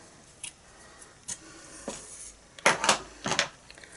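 Scissors snipping baker's twine, a few sharp separate clicks followed by two louder, closer crunchy snips near the end, with no talk.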